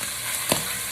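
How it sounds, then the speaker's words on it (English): Ham browning in a caldero gives off a steady close sizzle, broken once by a brief clack midway through. "I'm letting my ham fry up"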